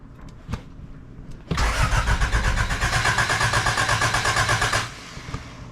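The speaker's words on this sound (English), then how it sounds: "now we got it so we could crank the car" A car engine cranks with a rapid rhythmic churning for a few seconds, then dies down to a quieter idle-like hum; a few clicks precede the cranking, close and loud, with no speech.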